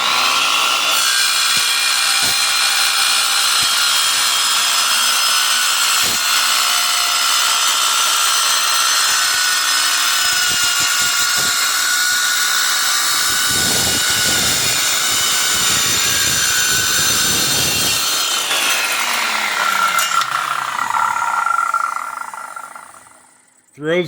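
An older Skilsaw 77 circular saw cuts through a piece of aluminum, a loud, sustained high-pitched whine with grinding bursts mid-cut, then the motor spins down to silence.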